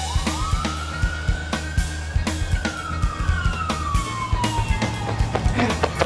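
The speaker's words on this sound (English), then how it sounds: "Why are there sirens going off in this scene?" Police sirens wail through a movie chase scene, one tone rising and then slowly falling. Sharp, rhythmic thumps and a low engine-like drone run beneath it, and the whole stretch stays loud and busy.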